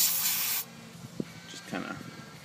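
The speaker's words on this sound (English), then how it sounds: "We're gonna take this grease here and we're just gonna shoot it in." A brief, loud hiss of an aerosol grease spray on a lawn mower's brakes lasts about half a second, then soft handling noises and a faint voice follow.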